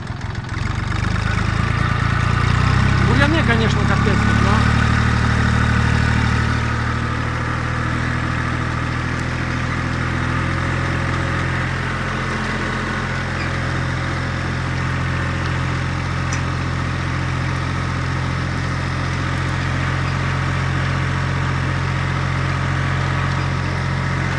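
A steady Jinma 264E tractor engine pulling a disc harrow over stubble drones on with a deep low rumble, louder for the first few seconds, then settling into a constant labouring hum. No one speaks.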